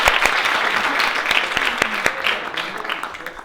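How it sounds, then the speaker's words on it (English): A dense round of applause from many hands, loud and sustained, with sharp individual claps standing out throughout. "Let's give them a big round of applause."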